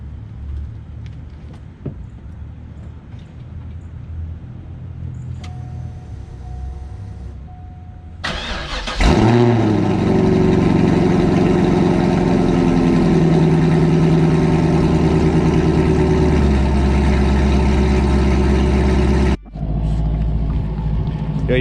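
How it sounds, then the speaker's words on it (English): A car engine cold-starts on a chilly morning, cranking briefly before catching with a loud, sudden roar that settles into a steady, rumbling idle close by, then dips for a moment and carries on idling. "Let's get you guys that little cold start."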